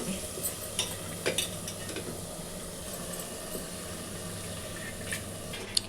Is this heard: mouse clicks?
no